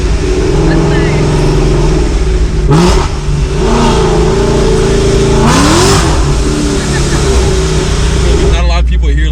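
An 1100 HP Ford Mustang engine roars loud and close from inside the car, revving hard through a downshift with rising and falling pitch sweeps over a constant heavy drone, with a voice partly heard beneath it.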